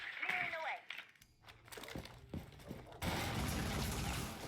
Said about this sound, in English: But we are hearing gunfire at the bottom